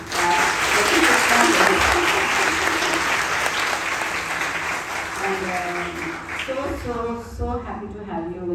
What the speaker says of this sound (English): giving her a big clap